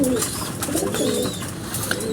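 Soft, low cooing of pigeons rises now and then over a steady background hum, with a few faint chirps mixed in.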